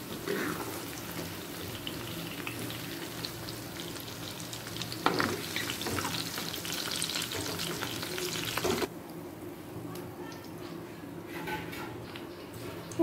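Paneer cubes frying in oil in a pan over a low gas flame, a soft continuous sizzle with occasional clinks and stirring sounds, dropping quieter partway through.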